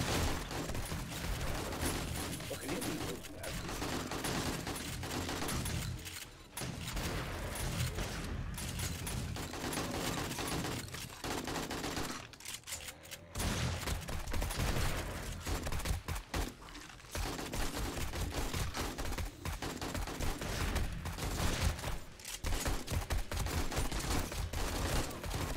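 Gunfire rattles almost without letup during a horde night in 7 Days to Die, dense bursts and rapid shots going on for long stretches, broken by a few short lulls.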